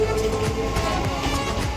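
A train pulling into Sonarpur railway station, a loud rumbling rattle of wheels and cars with a sustained mechanical tone, close by on the platform.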